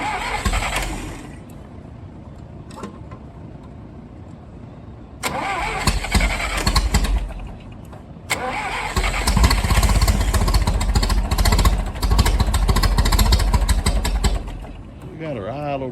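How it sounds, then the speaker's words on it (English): A Massey Ferguson tractor engine fires and runs, roaring up loud and rough as the throttle is raised, then settles back slightly, with people talking over the noise. "Turn the throttle up a little there,"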